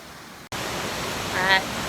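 A waterfall in the jungle at Semuc Champey, Guatemala, gives a steady, loud, close broadband roar that starts abruptly and continues without a break.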